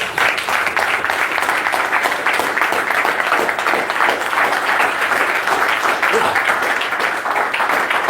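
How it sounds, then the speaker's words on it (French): A congregation at a prayer service claps together in a loud, continuous wave of many hands, close and unbroken from start to finish. "Applaudissons pour notre Père."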